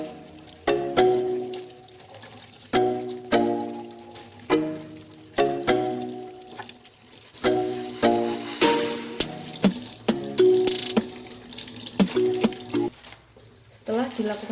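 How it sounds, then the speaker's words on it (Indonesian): Breadfruit leaves rinsed by hand under a running tap, with intermittent splashing and trickling water in short bursts alongside clinking, close and moderately loud. "pencucian dilakukan di bawah air mengalir"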